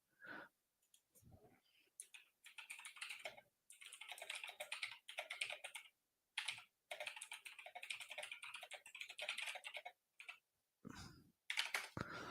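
Rapid typing on a computer keyboard, close and fairly loud, with clustered clicking bursts broken by short pauses and a few soft breaths.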